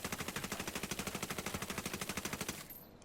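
Rapid sustained automatic fire from an FAL rifle in the video game Ghost Recon Wildlands, a long even burst of sharp repeated shots that cuts off near the end.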